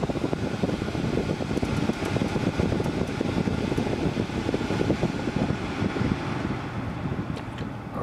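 A steady whooshing air conditioner fan in auto mode blows throughout inside a 2007 Mercedes C180, constant airflow from vents with a slight rumble, close and even in level, no voices.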